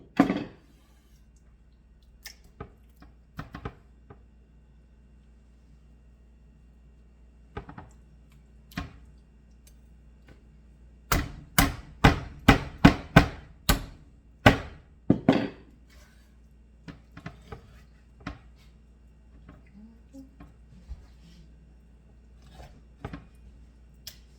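Chicken being cut into smaller pieces on a board for boiling, with sharp knife taps and thunks, first sparse, then a quick cluster of firm chops, then scattered quieter knocks over a low steady background hum.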